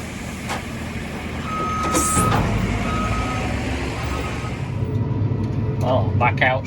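A lorry loading feed barley on a farm sounds its reversing alarm in a couple of steady beeps over a low engine rumble, with someone talking nearby.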